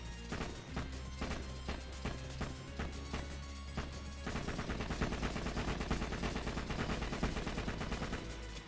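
Gunfire from a big-magazine gun in a video game, starting as evenly spaced single shots and then breaking into a dense, continuous rapid-fire stream, with a low steady tone underneath.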